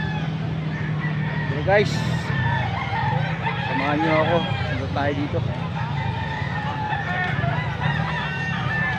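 Roosters crow in the background, their rising calls cutting through a busy outdoor din while someone talks close by, in Pampanga, Philippines.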